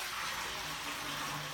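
Homebrew beer wort is poured in a continuous, hissing, splashing stream, fairly faint and steady throughout with no talking.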